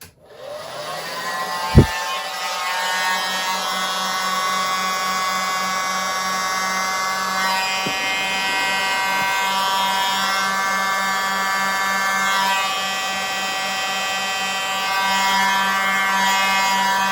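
A hairdryer blows steadily across a fresh acrylic paint pour done with the bloom technique, a loud continuous whine with a sharp knock near the start and slight shifts in pitch as the airflow moves over the canvas.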